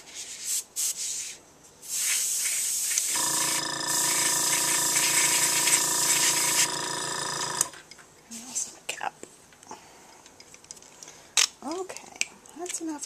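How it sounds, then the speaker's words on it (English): An airbrush sprays Copic ink, powered by an air compressor that runs as a loud steady hum with a tonal drone for several seconds, bracketed by hissing spray bursts and a person talking. "Enough airbrushing. I'm going to turn off my air compressor"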